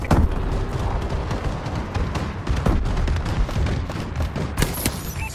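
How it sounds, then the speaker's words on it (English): Bombing run explosions in the shooter game Advanced Warfare: a dense barrage of loud booms and bursts, heavy low rumble with sharp cracks layered on top, continuous and close. "Friendly bombing run incoming."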